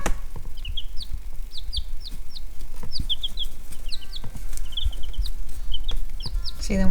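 Backyard chickens cluck in rapid, repeated bursts close by, a busy flock chattering continuously with a faint low background hum.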